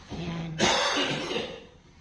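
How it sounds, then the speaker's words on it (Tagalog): A single harsh cough bursts out close by after a brief hum of voice, then trails off into a raspy breath. "Inuubo ka na naman?"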